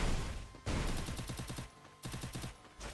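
Automatic gunfire from a whole magazine emptied in the Free Fire video game, two fast, evenly spaced bursts of close, loud shots split by a brief pause, with no talking.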